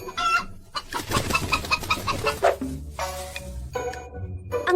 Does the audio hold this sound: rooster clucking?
yes